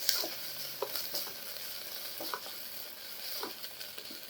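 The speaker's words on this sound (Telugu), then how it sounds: "సో మధ్యలో కలుపుతూ ఉండండి" Onions fry softly in a pan for a weight-loss khichdi, a faint low sizzle with a few light scrapes and taps from stirring at intervals, quiet and close with no voices.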